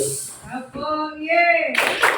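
Group clapping game at a teachers' training session, with a short burst of many hands clapping together near the end after voices call out.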